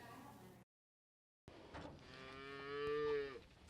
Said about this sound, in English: Ashley Carter takes us to a cattle ranch to see how they're developing better beef while catering to the cow's well-being.